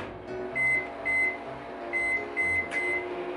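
Microwave oven running while cooking doughnut batter, a steady mid-level hum with a faint repeating whine and a brief click near the end, no voices.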